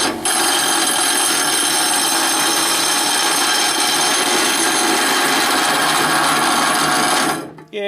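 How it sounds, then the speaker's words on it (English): A grinder runs continuously at full, loud level in a welding shop during work on a quick bucket attachment, a dense steady whine that holds for about seven seconds before abruptly dying away. "maybe we get some free grinding right now"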